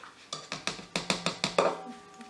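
Batter for banana bread muffins is mixed with a spatula in a bowl: about eight rhythmic, close scraping knocks against the bowl, evenly spaced, followed by a brief quiet tail.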